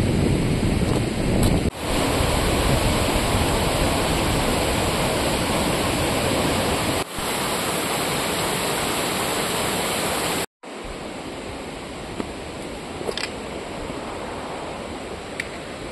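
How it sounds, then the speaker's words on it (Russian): Amanauz river rushing through a mountain gorge near Dombai: a loud, steady, close roar of fast water that fills the whole clip without pause, apart from one brief dropout. "Собственно, сама река."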